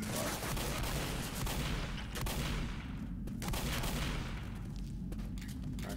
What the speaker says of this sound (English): I stick with the machine gun